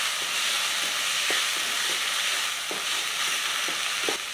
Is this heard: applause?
no